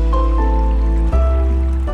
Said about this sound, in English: Let the water run.